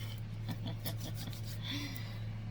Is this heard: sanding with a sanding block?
yes